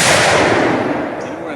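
A single sharp crack from a Carcano M1891 TS carbine in 6.5x52 opens the moment, loud and close, then trails off in a long rumbling echo that fades over the next second and a half.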